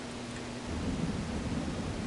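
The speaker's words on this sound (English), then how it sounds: "A thunderstorm is battering the city." Thunderstorm from the Cities Skylines city-builder game on PS4: a steady wash of heavy rain with low rumbling thunder that swells after the first moment and holds, loud and continuous with no voices.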